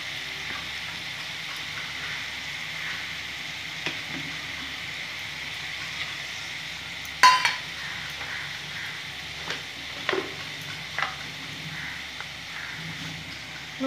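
Ginger, cumin and green chillies fry in hot oil for an omelette curry, giving a soft, steady sizzle close by, with a few faint clinks and stirring knocks.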